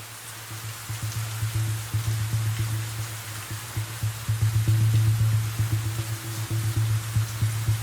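Steady rain patters and hisses continuously, with a low constant hum underneath and no voices.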